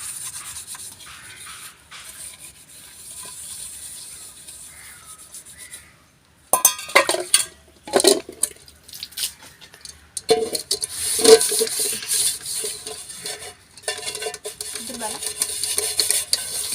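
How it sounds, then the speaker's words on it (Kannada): Dishes and pots are scrubbed by hand on the floor at home, with bursts of rubbing, scraping and clanking metal separated by short pauses, close and fairly loud. "ನನಗೆ ಹೀಗೆ ಕೆಳಗೆ ಪಾತ್ರೆ ಇಟ್ಟು ತೊಳೆದೇ ಅಭ್ಯಾಸ"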